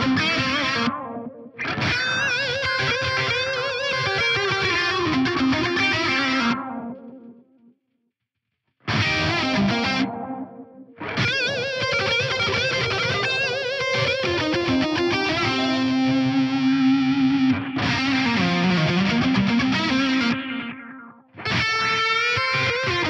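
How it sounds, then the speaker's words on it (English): Electric guitar echoes run through a Fractal FM3 and feeding an envelope filter block, giving sustained, sweeping, effected tones with a distorted edge, loud and continuous, with two brief drops into silence. "these echoes are going to be feeding into the filter block, so they're going to be triggering the envelope filter in there"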